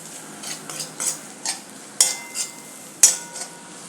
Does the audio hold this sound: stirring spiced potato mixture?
yes